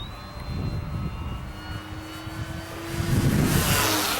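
An FMS P-47 Thunderbolt RC model plane flies into the wind, its motor a steady thin whine over wind noise that swells louder near the end as it passes closer.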